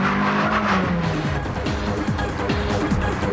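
A Toyota Celica accelerates hard on a sprint, its engine revving up through rising gear pulls in a loud, close, continuous run.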